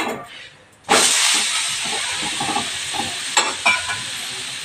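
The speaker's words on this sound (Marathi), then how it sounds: "आपण हे पलटून घेणार आहोत." A ragi and jowar ghavan is flipped onto a hot pan, setting off a sudden loud sizzle that slowly fades to a steady hiss, with a couple of light clinks near the end.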